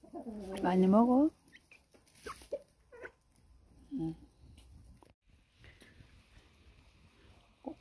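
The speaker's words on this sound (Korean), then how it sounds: "꼬꼬들이에요, 꼬꼬들." Hens, including a thin mother hen with her young, cluck and squabble in a flock. One loud burst of calls comes near the start, followed by scattered softer clucks and a brief murmur of voices.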